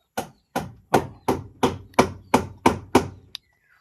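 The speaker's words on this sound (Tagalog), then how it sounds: "ginagamit nila ay martilyo sa pag ng pako" A hammer drives nails in carpentry work: nine sharp, evenly spaced blows ring out close and loud at a steady rhythm, followed by one lighter tap, with no talk.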